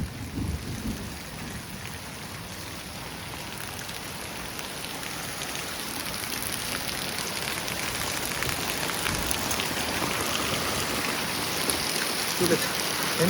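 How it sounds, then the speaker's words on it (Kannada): Heavy hail and rain pound down in a storm, making a dense, loud, continuous roar of impacts that grows stronger over time, with faint voices now and then beneath it. "ಆಲಿಕಲ್ಲು ಮಲೆ ಆಲಿಕಲ್ಲು"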